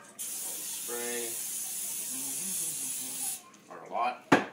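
Cooking spray hisses onto a muffin tray in one long steady burst, close and clear, while a person talks over it, followed by brief clatter.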